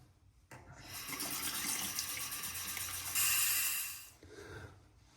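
Tap water runs under a stainless steel double-edge safety razor as it is rinsed, a close, steady rushing splash that swells and peaks near the end, then cuts off; no talking.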